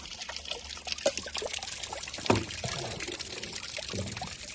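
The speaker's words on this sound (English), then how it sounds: "This pipe here goes to a waterfall that goes into the bio pool." In a video game, water pours from a pipe down a waterfall into a bio pool, a steady close splashing trickle that runs the whole time, with no talk over it.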